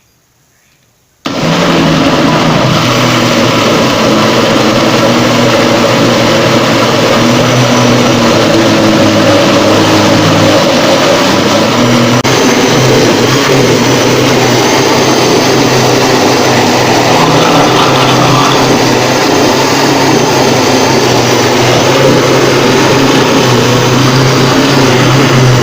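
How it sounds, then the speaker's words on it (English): A kitchen blender whirring through tomato seed gelatin mixed with water, starting abruptly after a brief silence and then running as a loud, steady motor drone with a slight shift in pitch partway through. "Okay, so let's turn on the blender."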